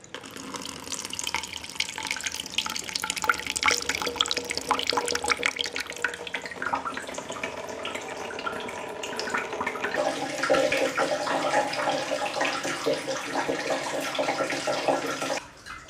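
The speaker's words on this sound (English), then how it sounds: "Time to open the spigot and start filtering." Collected pond water pours steadily from an opened spigot through a coffee filter set in a funnel, a continuous close splashing trickle that runs on without pause and grows slightly fuller partway through.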